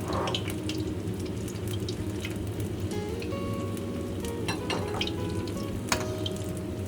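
Pork strips sizzle and fry steadily in hot oil over low heat, a dense continuous crackle with occasional sharper pops and light clinks, heard close and alone without speech.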